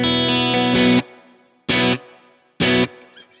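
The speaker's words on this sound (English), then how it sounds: "So that's my reverb sound." An electric guitar through a Kemper amp with hall reverb plays three distorted chords: one long, two short stabs, each cut off and trailing a soft reverb tail.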